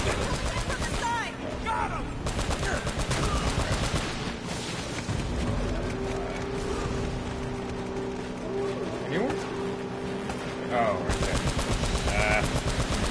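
Near-continuous gunfire in the video game Uncharted: Drake's Fortune, rapid automatic bursts and scattered shots under a player talking, sustained across the whole stretch.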